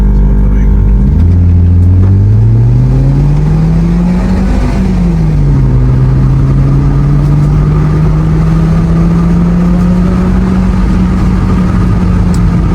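A modified Changan Alsvin car engine revs up loudly and close, pitch rising, dipping, then holding at a sustained high drone for several seconds.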